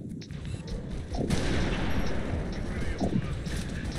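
Repeated gunfire in Halo: Reach during the Long Night of Solace mission, a sustained crackling volley that swells partway through and keeps going, with brief sharper shots standing out near the start and later.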